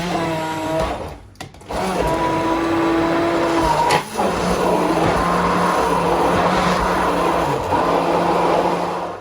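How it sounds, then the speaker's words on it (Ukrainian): A blender whirs loudly and continuously while mixing a spinach and banana smoothie with water, a brief pause and restart near the start, then a steady close roar. "І зараз ми збиваємо до однорідної консистенції."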